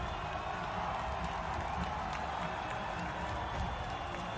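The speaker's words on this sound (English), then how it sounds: "Listen to the crowd" Steady, distant crowd noise from spectators at a marble race, a continuous roar of cheering and chatter that stays even and broad throughout with no distinct peaks.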